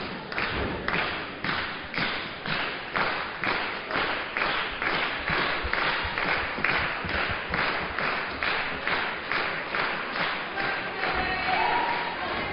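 A wrestling crowd claps and stomps in a steady, rhythmic beat for both competitors, a loud and regular pulse of thuds that continues throughout with crowd noise underneath.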